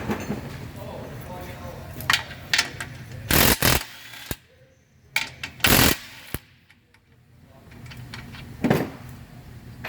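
Bolts being removed from the frame of a 2007 Buick Terraza with a 3.9 liter engine, several loud bursts from a power tool, each lasting under a second, separated by quieter stretches with scraping and clanks. Someone talks at times.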